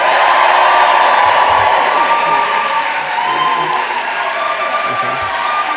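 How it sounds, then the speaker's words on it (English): A large school audience at an autumn awards ceremony cheers and applauds for the graduating class of 2024, a loud, dense roar of clapping and shouts that holds steady throughout. "we're going to give a big cheer for the class of 2024"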